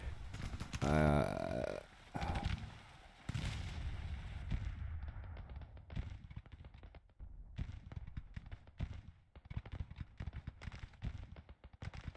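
Counter-battery artillery fire booms in the Civil War strategy game Grand Tactician: a few loud, heavy blasts early on, then a string of fainter, scattered distant cannon reports.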